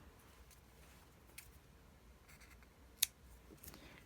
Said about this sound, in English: So we'll cut our yarn.